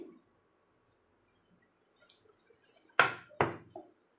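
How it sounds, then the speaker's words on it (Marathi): Besan gatte drop into boiling gravy in a pot, giving two close, solid clunks and splashes after a near-silent stretch, followed by faint light knocks. "आता मी यात गट्टे घालते"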